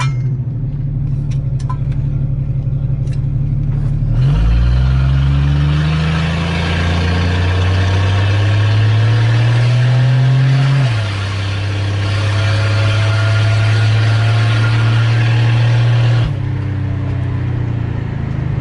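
A station wagon engine runs steadily, its pitch rising as it revs, then settling back to a steady hum, close and loud throughout with no talking.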